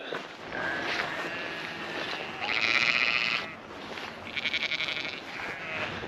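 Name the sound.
sheep bleating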